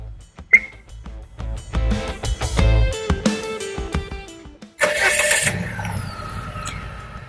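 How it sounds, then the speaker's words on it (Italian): A Dr 6.0 SUV with a 1.5 turbo four-cylinder petrol/LPG engine is started remotely by key fob: clicks and a starter crank, then the engine catches and settles into a steady idle close by. "E l'auto parte."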